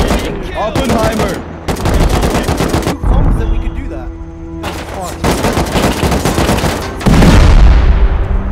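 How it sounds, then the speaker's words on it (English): Loud bursts of automatic gunfire in the survival game Rust, rapid rattling volleys separated by short pauses, with a heavier burst at the end and background game sounds. "We're getting shot."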